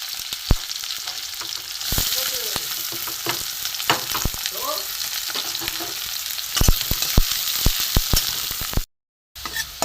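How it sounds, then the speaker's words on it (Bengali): Onions fry in spattering mustard oil, a close, steady sizzle punctuated by sharp pops and stirring clicks, with a brief dropout near the end. "আবার তেল ছিটাচ্ছে, এতে আমি পেঁয়াজটা ভেজে নেব।"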